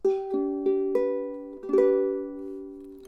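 Acoustic guitar chords struck one after another, each ringing out clearly and sustaining, with the last chord, a G, left to decay.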